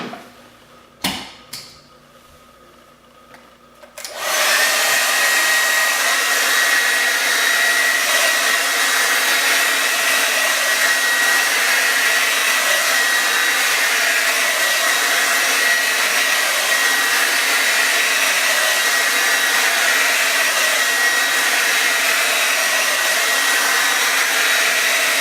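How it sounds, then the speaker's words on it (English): After a few seconds of quiet handling noises, a hair dryer switches on and blows thick hair dry for curls, running as a loud, constant whoosh without a break to the end. "Then you just start to blow dry."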